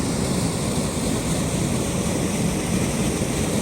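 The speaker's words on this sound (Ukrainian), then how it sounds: "Ось, друзі, отака дуже бурхлива річка." A turbulent mountain river rushing through a valley beside a road in winter, a loud steady roar of churning water that goes on without pause.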